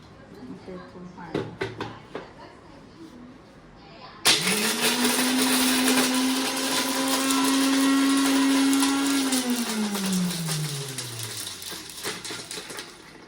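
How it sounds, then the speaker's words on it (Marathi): A kitchen mixer grinder whirs loudly as it grinds crab claws for a crab curry, starting abruptly after brief clatter, holding a steady motor whine for several seconds, then winding down as the motor slows. "काढून घेतलेले नांगे मिक्सरमध्ये वाटायचे आहेत"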